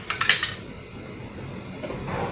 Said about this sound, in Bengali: আমি চুলা অন করে কড়াই বসিয়ে দিলাম